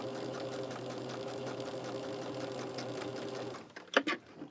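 A sewing machine stitches a quilt block for a Double T-Block pattern, a steady close mechanical whir with a rhythmic needle beat that runs for over three seconds, then stops with a few clicks and handling sounds.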